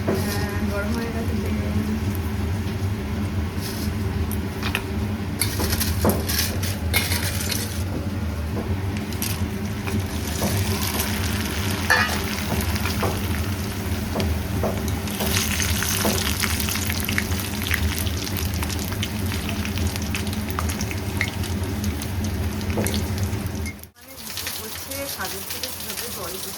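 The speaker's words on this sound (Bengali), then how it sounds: "আর এই যে পাপড়, এই পাপড়টাই ভাজবো আজকে" Papad frying in hot oil in a pan gives a steady, close crackling sizzle that runs on continuously, then cuts off abruptly near the end.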